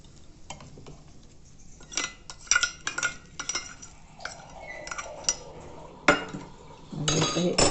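Curd rice being mixed with a spoon in a dish, soft irregular clinks and scrapes of metal against the plate, close and fairly quiet, with brief pauses between bursts.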